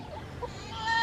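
A hobby-farm chicken gives a few soft clucks, faint and fairly near, rising slightly toward the end over low outdoor background noise.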